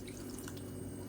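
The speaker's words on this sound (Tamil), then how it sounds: "ஒரு 1/4 கப் அளவுக்கு மட்டும் தண்ணி ஊற்றிக்கலாம்." Water trickles and splashes into a pan of greens being cooked for kootu, a soft, steady pour heard close and faint with no talking.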